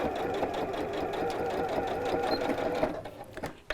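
A sewing machine stitches bias binding down into a mitred corner, a close rapid mechanical whirring chatter that runs steadily for about three seconds, then stops with a few small clicks.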